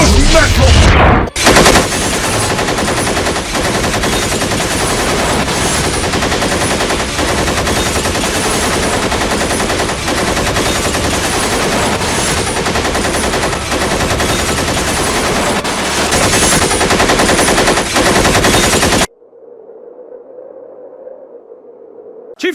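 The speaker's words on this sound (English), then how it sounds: "sounds of gunshot from the school were reported" A magic school comes under heavy gunfire: loud, continuous automatic bursts roar almost without pause for nearly twenty seconds, then cut off abruptly into near silence broken only by a faint hum.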